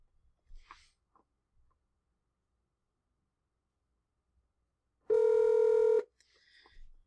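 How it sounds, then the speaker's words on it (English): A single bike-horn style electronic ringtone honk blares for about a second from a Grandstream GXP2170 desk phone in an otherwise quiet room, with faint sounds around it. "we're going to select bike horn ringtone"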